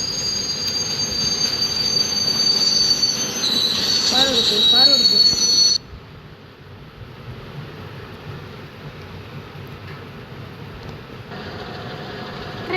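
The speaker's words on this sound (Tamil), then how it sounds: "ட்ரெயின் போகுது பாருங்க." A train in a motorbike video game rolls past with loud, squealing wheels and rattling carriages. Then it cuts to a quieter low rumble. A person talks partway through.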